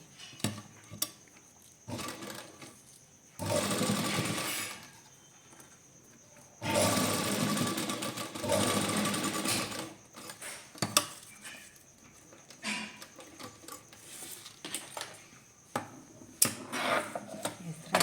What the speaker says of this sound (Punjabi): ਉੱਥੇ ਉੱਥੇ ਮਾਰੀ ਜਾਣੀ ਸਲਾਈ